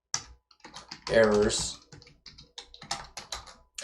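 Code is typed on a computer keyboard in quick bursts of close, crisp key clicks, with someone speaking briefly over the tapping.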